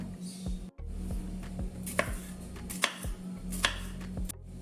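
Knife chopping something into small pieces on a board, steady rhythmic taps about two per second with a few sharper louder strikes, close and alone under a low hum.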